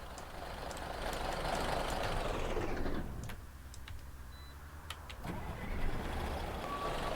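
Scania OmniDekka double-deck bus engine in the OMSI 2 simulator, heard from outside as a steady idling rumble with a brief dip in level midway, plus a few faint clicks.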